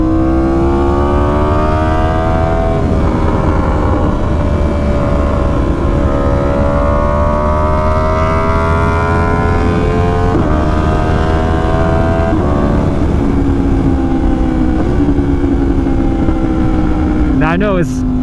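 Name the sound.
Yamaha R1 motorcycle engine during clutchless downshifting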